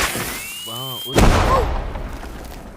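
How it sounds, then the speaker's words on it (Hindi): A sharp firecracker bang bursts out suddenly, loud and close, then decays into a rumbling tail. It comes just after a short vocal tone and a rising whistle. "तुम पटाखे इस्तेमाल कर रहे हो?"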